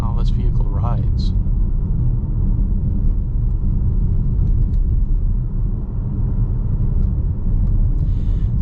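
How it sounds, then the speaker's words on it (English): Cabin of a 2023 VW Tiguan on 19-inch wheels crossing a rough, patched road with potholes: a constant loud low rumble of road and tyre noise with faint knocks throughout, with no one speaking. "we have a pretty rough stretch of road coming up. There's lots of patchwork, lots of potholes"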